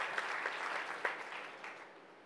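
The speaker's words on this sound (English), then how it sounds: "Round of applause for Daniel" Audience applause at a live startup pitch event with investors, for a presenter named Daniel; steady dense clapping that peaks a few times and fades toward the end, with no talking.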